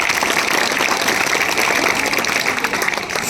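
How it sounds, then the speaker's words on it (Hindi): Loud, dense applause from a crowd at a village education dialogue event in Saharsa, Bihar, for the BPSC teachers, a continuous wash of many clapping hands throughout. "एक बार बीपीएससी के सभी आए हुए शिक्षक के लिए जोरदार ताली चाहता हूं"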